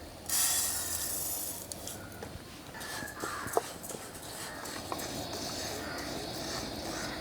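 Soft sizzling and hissing from a hot pan as payasam rice is dry-roasted, with occasional light scraping of a utensil, steady and close, no talking.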